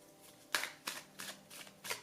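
Oracle cards shuffled by hand in quick riffling bursts, five short crisp flurries at an irregular rhythm, close and fairly quiet, with no talk.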